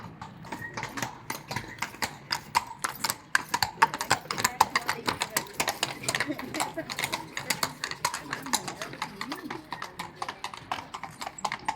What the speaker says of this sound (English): Nearby, the tired, gentle old horses are given some water by the coachman.